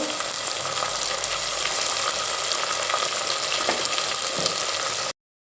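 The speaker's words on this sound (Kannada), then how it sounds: "ಈರುಳ್ಳಿ ಸ್ವಲ್ಪ ಬಟಾಣಿ ಫ್ರೈ ಆದಮೇಲೆ ಹೆಚ್ಚಿಟ್ಕೊಂಡಿರೋಂಥ ಟೊಮೆಟೊ ಹಾಕ್ಕೋಬೇಕು" Chopped tomato frying in a pan with onion and peas, a dense, even sizzle with occasional spatula scrapes, close and continuous for about five seconds before cutting off abruptly.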